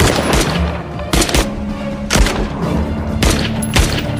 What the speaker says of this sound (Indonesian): saking amarahnya baku tembak pun tidak terelakkan lagi